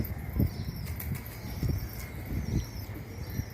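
Pigeon wings flap in quick soft bursts, several flurries in a row, with a steady outdoor hiss behind them.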